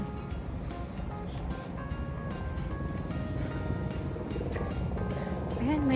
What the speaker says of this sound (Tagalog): Ayan, may naririnig tayong helicopter.